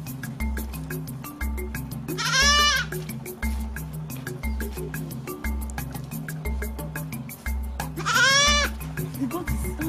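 Goat bleating twice amid a steady rhythmic low thumping beat, each bleat a wavering, quavering call standing out clearly over the repeating background pulse, in a dry-land setting with no food or water.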